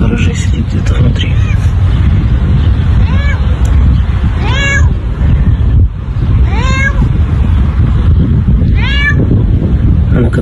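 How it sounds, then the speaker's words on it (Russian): A cat meows from somewhere inside a garage, giving several drawn-out, rising-and-falling cries spaced a second or two apart. They sit over a constant loud rumble of wind and outdoor noise. "Кошка в гараже сидит где-то внутри."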